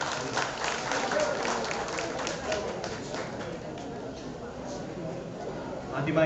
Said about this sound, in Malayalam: അവർക്കൊരു വലിയ കയ്യടി കൊടുക്കാം എല്ലാവർക്കും